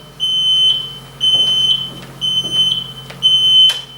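An alarm on a site monitored by a SCADA control system beeps loudly in four regular shrill bursts, each roughly half a second long with short gaps between them.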